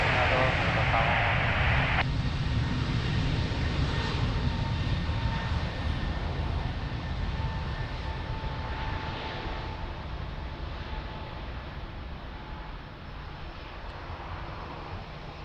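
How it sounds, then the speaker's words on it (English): A Boeing 787-10 airliner at Lisbon Airport roars with a loud, steady jet engine rumble that slowly eases over the span; a brief hiss drops away early. "What a beauty, 787-10."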